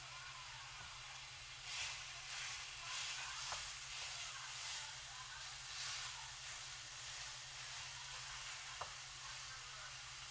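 Ground meat fries in oil in a not-very-non-stick pan over low heat, a steady soft sizzle with faint scraping and stirring, heard close and without talk.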